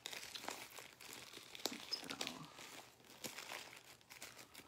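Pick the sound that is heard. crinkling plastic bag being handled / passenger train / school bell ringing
crinkling plastic bag being handled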